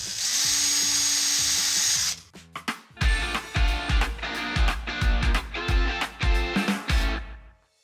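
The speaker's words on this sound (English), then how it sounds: "let's go ahead and drill a hole at each one of our reference marks that we made earlier" A power drill with a 3/16 inch bit bores a series of pilot holes into a shower wall side panel, about ten short, loud bursts in steady succession, each biting in sharply and stopping, after a steady hiss at the start.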